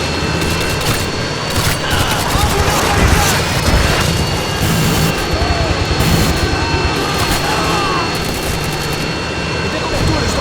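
Harrier jet roaring in during a Modern Warfare 2 match, a loud continuous engine rumble mixed with heavy gunfire bursts and explosions, with game voices calling out over the din.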